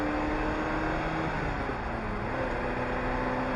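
A 1997 Ferrari F355 Spider engine runs as a steady, continuous hum with no breaks, under a constant wash of road and wind noise.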